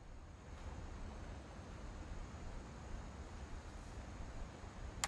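Ocean waves rolling in the game What Remains of Edith Finch, a faint, steady wash of surf and wind that continues evenly with no voices.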